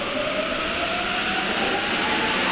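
A metro train rumbles steadily through a Paris station, a continuous loud mechanical roar with a faint rising whine, no voices present.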